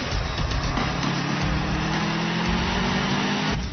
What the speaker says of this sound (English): Oh, I love to hear that boxer engine.